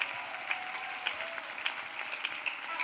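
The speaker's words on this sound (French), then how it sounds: "Clap for God." A church congregation applauds together, a dense, steady wash of many hands clapping with a few sharper individual claps standing out, continuous and fairly close.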